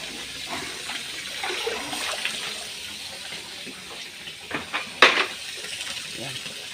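Water runs into a container as it fills, a steady hissing rush close by with a sharp clatter near the end.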